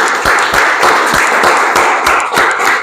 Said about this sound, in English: So a big applause for Tom Seeley.